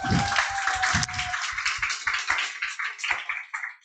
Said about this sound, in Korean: 다시 한번 큰 박수로 맞이해보도록 하겠습니다